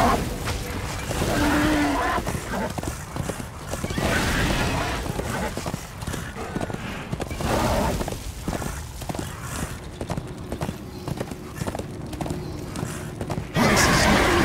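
Horse hooves clip-clopping at speed in the video game Darksiders II, rhythmic thuds mixed with game effects and a whinny, with a voice speaking briefly over the action.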